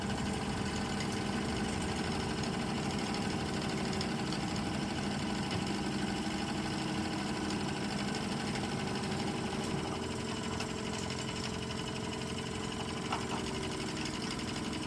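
Three Wilesco model steam engines running together at once produce a steady, continuous mechanical hum and chuffing whir with a fine rapid rhythmic texture, even in level throughout with no talking.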